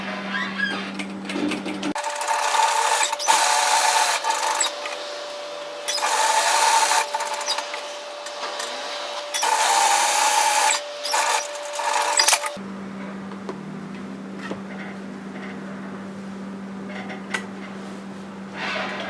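A sewing machine stitches a decorative line around a varsity bomber jacket, whirring steadily in long bursts with short pauses between runs, close and clear, with a faint background hum during the quiet stretches.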